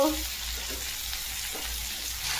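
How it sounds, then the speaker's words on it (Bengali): Okra frying in a pan with tomato and onion for a poppy-seed okra dish gives a soft, steady sizzle with faint stirring scrapes throughout, fairly quiet and without speech. "আমি টমেটো দিয়ে দিলাম, পেঁয়াজ দিয়ে দিলাম, ভালো করে নাড়বো"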